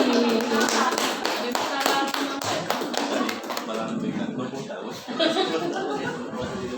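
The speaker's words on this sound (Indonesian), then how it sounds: "kita beri tepuk tangan yang hangat untuk Bu Helma Oktaviani Putri" Warm audience clapping at a school talk show on deep learning in Cicantayan greets panel speaker Bu Helma Oktaviani Putri, a burst of many hands for about three seconds that thins out as speech takes over.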